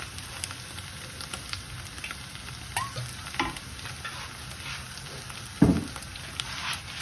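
Minced meat cooking in olive oil in a pan for spaghetti with minced meat, giving a steady close sizzle with occasional spoon scrapes and taps as it is stirred, and no voices.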